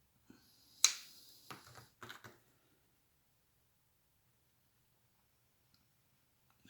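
Scissors snip thread close by while a doll is being stitched, one sharp cut followed by a few small clicks and rustles, then quiet.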